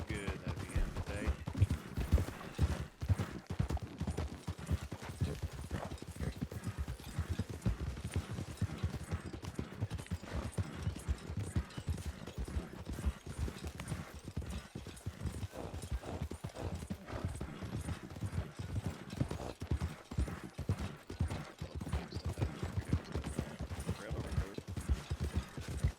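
Steady clip-clop of horse hooves plodding along at a walking rhythm, close by, in the video game Red Dead Redemption 2, with occasional voices and faint mechanical clicks underneath.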